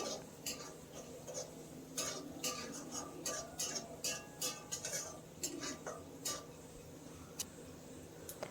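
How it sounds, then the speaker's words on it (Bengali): Rice dry-roasting in a pan on low flame while being stirred, heard as quiet, irregular light clinks and scrapes of a spatula against the pan, with no talking. "এখন 2 মিনিট চালটাকে ভেজে নেব লো ফ্লেমে"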